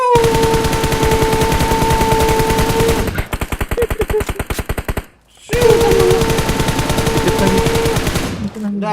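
Loud, sustained automatic gunfire fires in PUBG Mobile as long rapid bursts of evenly spaced shots, briefly broken by a pause before resuming, with a steady tone ringing underneath.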